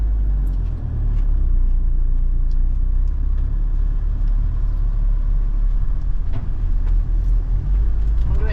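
A van rolls onto a ferry among lorries, its engine and road rumble steady and close throughout, with a low heavy drone and brief knocks as it moves aboard.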